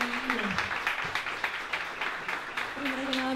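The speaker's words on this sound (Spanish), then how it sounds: "Un aplauso para Mónica Fuy." Crowd applause at a tennis exhibition event for Monica Puig, rhythmic clapping at moderate distance with a faint tonal sound beneath it at the start and end.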